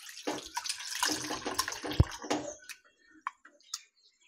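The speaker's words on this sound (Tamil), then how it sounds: "இப்போ தேவையான அளவு தண்ணி ஆட் பண்ணிக்கோங்க." Water poured into a horse gram rasam mixture in a home kitchen, a burst of splashing and trickling for about two and a half seconds, then a few scattered drips fading into quiet.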